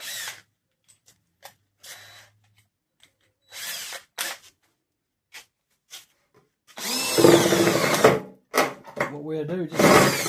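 Power drill boring a small hole into a metal downspout, short bursts of whirring and clatter at first, then a longer loud drilling run near the end, with a voice speaking between the bursts.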